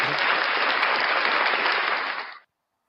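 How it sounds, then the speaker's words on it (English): An audience at a live breakfast show claps for a guest, a full, steady wash of applause that holds evenly and then cuts off abruptly into silence. "round of applause for the amazing, the gorgeous, the beautiful, the fantastic, the unbelievable Ray"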